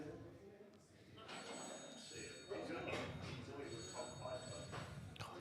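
A mobile phone rings during a pairs eight-ball pool match, its bright repeating tone sounding faintly through steady commentary and background chatter in the hall.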